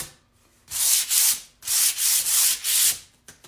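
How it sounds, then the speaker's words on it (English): Sandpaper rubs over a wood surface in a quick run of about five close, rasping strokes, each a short burst of gritty scraping with brief pauses between, fairly near and alone. "I'm just going over it real quick, some sandpaper,"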